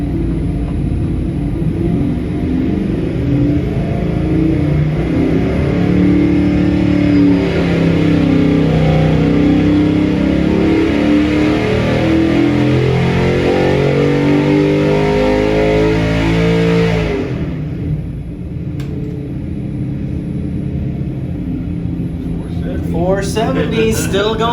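A 5.3L LS LM7 V8 on a dyno holds a loud, steady droning pull for about seventeen seconds, its pitch wavering slightly before it abruptly drops off, with people talking over it.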